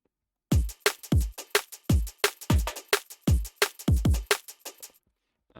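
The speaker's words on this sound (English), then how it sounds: "With the kick and the snare, sounds like this." Chopped breakbeat of kick and snare hits, punchy and dry with sharp transients in a steady syncopated rhythm, playing alone and stopping abruptly.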